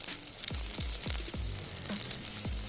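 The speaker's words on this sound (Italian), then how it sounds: "Inizia subito a sfrigolare, insomma è già calda la padella, poi con l'olio" Vegetarian burger patties sizzle in a hot oiled pan with a steady close fizzing hiss, while several sharp scraping clinks of a utensil against the pan come at irregular intervals.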